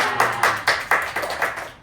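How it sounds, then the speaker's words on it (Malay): Classroom clapping for a student's monster sandwich in a food design lesson: a steady run of about seven crisp, evenly spaced claps, fairly close and alone without talk. "Berikan tepuk tangan Nasra."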